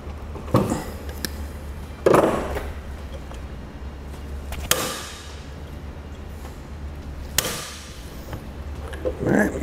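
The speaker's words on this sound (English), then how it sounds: "And then we'll use our hammer and our punch" A hammer drives a punch to knock a roll pin into a Dutton-Lainson trailer winch handle, a few sharp separate metallic taps spaced seconds apart over a quiet background hum.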